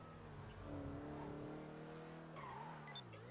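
Cheetah Classic car braking in GTA Online, a close, sustained tire squeal with tonal engine whine that shifts pitch, ending with a couple of short clicks, and no talking.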